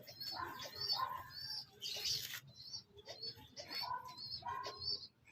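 Pet pigeons coo softly at close range, with repeated low throaty calls and a few brief chirps in a quiet setting.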